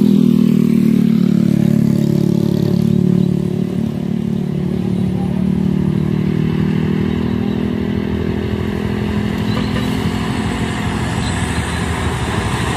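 A Mercedes Axor truck strains and fails to climb a hill, its engine giving a loud, sustained low roar with rough clattering, easing slightly after a few seconds but droning on steadily.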